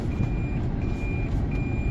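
A truck's reversing alarm beeps steadily in a repeating pattern over a loud, rumbling engine and low background noise.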